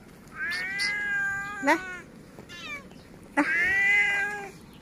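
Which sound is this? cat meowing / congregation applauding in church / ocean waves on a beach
cat meowing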